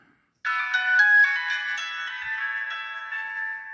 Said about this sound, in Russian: Первое, что я проверю, это я сделаю сигналы. Проверим громкость.